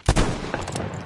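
A single sharp gunshot booms loud and close in the Metro Exodus game during a fight with a bear, followed by a short ringing decay and faint clatter.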